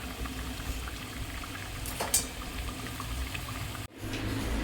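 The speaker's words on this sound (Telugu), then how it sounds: "చూడండి, అల్లం టీ కాగుతూ ఉంది కదా." Ginger tea boiling in a pot on the stove, a faint continuous bubbling simmer with a brief clink partway through, heard alone without any talk.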